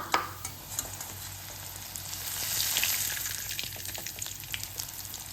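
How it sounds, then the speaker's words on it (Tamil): Flattened rice (aval) fries in hot oil inside a slotted ladle for aval mixture, a continuous soft sizzle and bubbling that swells in the middle, with light scraping clicks throughout. "அவலை வந்து போட்டு வேக வச்சு எடுத்துக்கலாம்"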